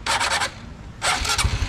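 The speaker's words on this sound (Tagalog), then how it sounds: "Motor starter." A motorcycle engine being started outdoors on a rural farm trip: two short bursts of starter whirr separated by a pause, the second catching into a low, uneven engine sputter.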